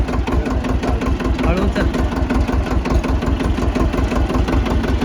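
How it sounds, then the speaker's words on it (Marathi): A tractor engine running with a steady, rhythmic low chugging throb, close and continuous, while people speak briefly over it. "कसं वाटतं ट्रॅक्टर चालवं?"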